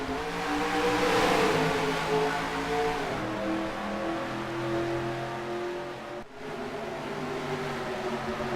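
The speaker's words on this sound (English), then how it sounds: "Matt Delio, Zachary Fitzwater, green flag in the Circle K 150." Race cars accelerate together at the green-flag start of the Circle K 150 stock-car race, a loud, sustained engine drone with rising revving tones and a brief dip as a gear change passes.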